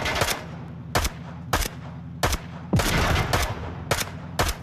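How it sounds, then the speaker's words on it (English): Gunshots in the VR shooter Onward, fired as a series of about seven sharp, loud reports at irregular intervals, each with a brief ringing tail over a steady low background. "I'm gonna shoot the explosive."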